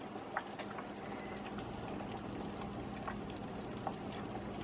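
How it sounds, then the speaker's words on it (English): Tomato topping is poured over a meatloaf in a home kitchen, a soft continuous wet pouring hiss with a few small splats, close and fairly quiet. "I just go ahead and just pour this over my meatloaf"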